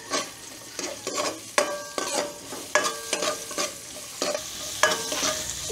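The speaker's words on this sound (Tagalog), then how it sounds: "Yan, gisa na po tayo at binawasan na po natin yung mantika." Garlic and onion sauté in reused frying oil left from cooking milkfish, a soft sizzle broken by a steady rhythm of stirring scrapes and light clinks against the pan, close and fairly quiet.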